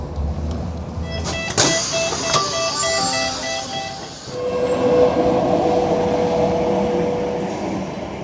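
A Sheffield Supertram tram rolling into Sheffield Station, with sharp electric whines and tonal hums early, then a steady rumbling ride noise that swells and continues, heard close from inside.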